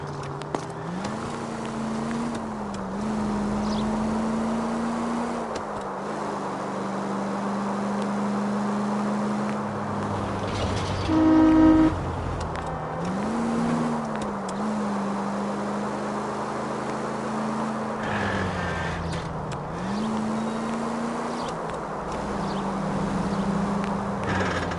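A car engine revs steadily over a long stretch and its pitch rises and falls through several shifts, loud and close with constant wind and road roar, ending in one brief sharp tone.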